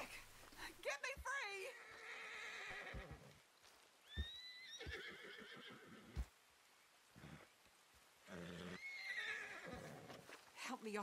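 A horse in Red Dead Redemption 2 whinnies shrilly several times, mixed with hoof clatter and snorts, while people talk over it.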